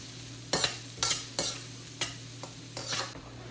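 Carrots and capsicum are stir-cooked in a hot pan over a steady sizzle. Five or six distinct scraping stirs come at roughly half-second intervals, close and clear, and no one speaks.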